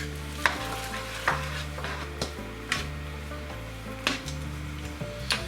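Softened onion and red pepper with garlic cloves being stirred in a pan, a curry base for slow cooker beef tikka masala: a steady low hiss broken by sharp, regular utensil scrapes and taps every second or so.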